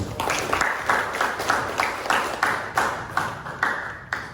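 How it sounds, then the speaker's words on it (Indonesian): A classroom group applauds during a teaching practice session, with clapping that comes in repeated rhythmic bursts, steady and moderately loud, and no talk over it. "Kita beri aplaus dulu."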